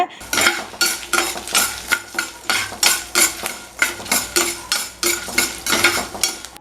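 Lentils with coriander seeds, pepper, cumin, garlic and five dried red chillies are stirred in a pan, with loud regular scraping strokes of a spoon roughly twice a second over a light sizzle, close up with no talking.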